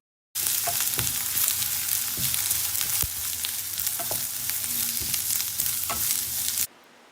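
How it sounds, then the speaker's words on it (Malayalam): Sliced onions and slit green chillies sautéing in a pan, a steady close sizzle with occasional sharper spatula taps and scrapes, starting and stopping abruptly. "എന്നിട്ട് നന്നായിട്ടൊന്ന് വഴറ്റിയെടുക്കണം"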